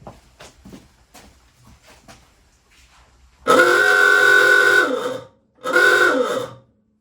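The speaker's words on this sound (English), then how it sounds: "he would like to hear Bugsy's horn" Two long blasts from a pickup truck horn, a harmonic-rich honk of about a second and a half followed by a shorter second one, loud and close, after a few quiet rustles.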